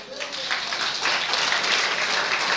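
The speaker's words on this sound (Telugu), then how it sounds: "హల్లెలూయా చప్పట్లు కొట్టండి" Applause from a church congregation during a Telugu sermon on gold, steady dense clapping filling the room throughout without a break.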